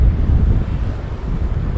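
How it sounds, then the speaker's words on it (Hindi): Strong wind blows over a river beside a bridge, roaring as a heavy low buffeting rumble against the microphone, close and loud throughout the short moment, with no speech. "तो नदी के ऊपर और भी ज़्यादा तेज़ हवा चलती है।"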